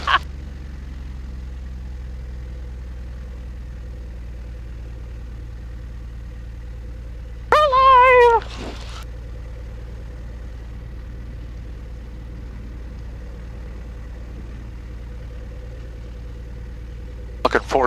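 An aircraft engine back-taxis on Talkeetna Village Strip in Alaska, a steady low drone throughout, broken once by a brief warbling radio-like burst.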